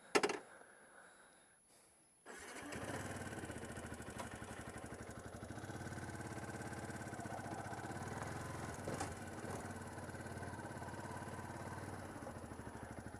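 A Yamaha YZF R125 125cc motorcycle cranks briefly, then fires up and settles into a steady, buzzy idle that continues evenly, close by and fairly quiet overall.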